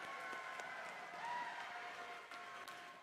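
Faint crowd applause fills a large arena at a district robotics competition in Los Angeles, a continuous distant wash of clapping with some crowd noise and no clear speech over it.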